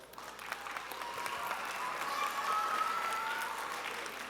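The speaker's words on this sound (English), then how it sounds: "Make sure we claps for our teachers who's been working with you day and night to make sure that you graduate." Graduation audience applauding teachers, a steady, dense wash of clapping from a large crowd that swells slightly and holds for several seconds.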